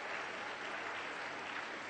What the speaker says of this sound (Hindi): तालियों की गूंज भी रहनी चाहिए, जोरदार तालियां बजाइए